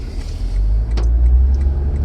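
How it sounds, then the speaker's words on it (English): A 2014 Lexus IS350 F Sport fitted with an aftermarket axle-back exhaust, its engine giving a steady, loud low rumble throughout, with a brief higher rattle near the middle. "my current vehicle is a 2014 Lexus IS350 F Sport"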